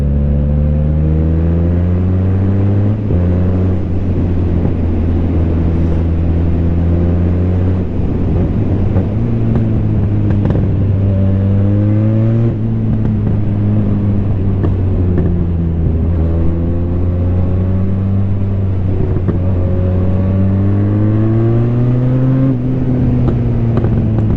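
A Leoncino motorcycle engine idles and repeatedly revs up and down, its pitch rising and falling in smooth sweeps, loud and close throughout with no talking.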